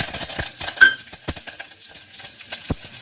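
Mustard seeds, cumin, dried chilli, garlic and curry leaves going into hot oil for tomato rasam, a light crackling sizzle broken by sharp clinks and taps of a spoon stirring in the pan.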